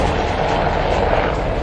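An Indian light combat helicopter weighing about six tonnes flies past, giving a loud, steady rotor and engine roar that holds without a break.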